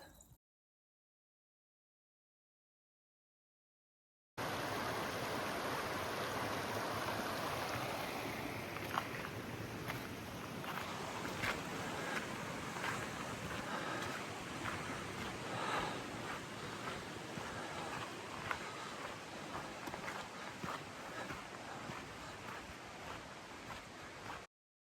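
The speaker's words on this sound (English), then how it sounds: "Tuolumne River." Tuolumne River near Soda Springs flowing as a steady, broad rushing roar, close and continuous, with wind buffeting the microphone; no talking.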